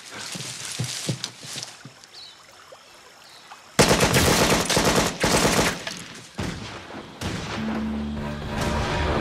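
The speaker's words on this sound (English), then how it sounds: "Buffer, I'm hearing gunfire." Gunfire during a pursuit at sea: scattered distant shots give way to loud, sustained bursts of automatic fire, then a lower mechanical rumble near the end.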